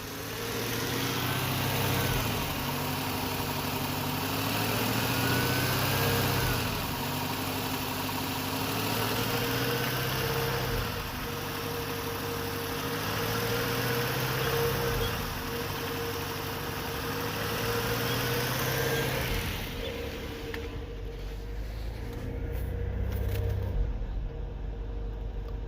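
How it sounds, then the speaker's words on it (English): A Nissan Maxima engine idles high after a misfire repair and coil replacement, a steady, close mechanical drone that surges and dips slowly in repeated waves before the sound drops off near the end. "now the motor is like revving high."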